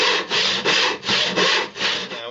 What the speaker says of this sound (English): I've decided to do it with a handsaw. I'm using a fine finish handsaw.